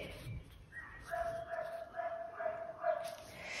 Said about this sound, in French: Je suis désolée pour le chien qui crie. Il est enfermé dans le balcon